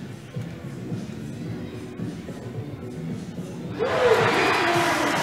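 At an NBL Canada basketball game in Charlottetown, a crowd cheers after a three-pointer, starting as a murmuring arena hum with some speech before a loud burst of cheering and whooping erupts near the end.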